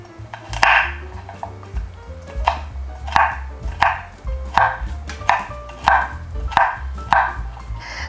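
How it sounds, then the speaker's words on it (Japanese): A knife coarsely chops pan-toasted walnuts on a cutting board in a home kitchen, a series of about ten sharp, close, evenly spaced knocks with no talking. "くるみはですね、粗みじんにしていきます。"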